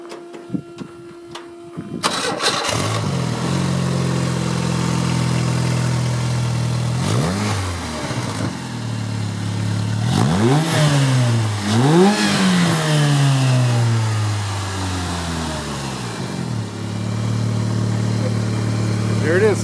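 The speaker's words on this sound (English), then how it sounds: "Let's fire it up real quick and give it a few revs." A Sand Cars Unlimited sandrail with an Ecotec engine cranks and fires up, then settles into a steady idle broken by several sharp rising-and-falling revs, loud and close.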